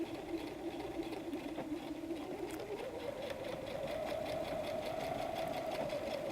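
A sewing machine stitches the bottom seam of a messenger bag, its motor giving a steady, close whir that climbs slightly in pitch as it runs, with no voices.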